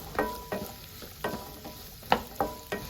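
Square-cut onions and garlic fry in a pan with a soft sizzle, punctuated by regular scraping stirs about every half second, close and without talk.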